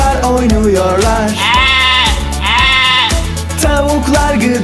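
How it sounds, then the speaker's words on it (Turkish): Lambs bleating on a farm, several loud, close, wavering bleats following one another in quick succession, with no other sounds competing. "Kuzular oynuyorlar."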